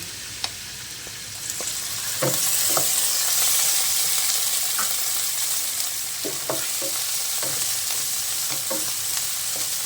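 Pork fries in a pan for mung bean stew, sizzling steadily and loudly throughout, with scattered stirring and scraping clicks from a utensil.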